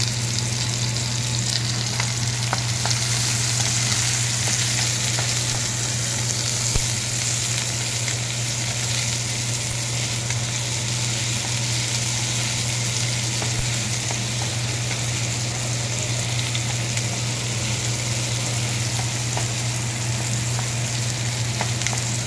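Chopped onion frying in hot oil in a kadai for korai paneer gives a steady, dense, close sizzle that holds for the whole stretch, with a constant low hum underneath and no talking.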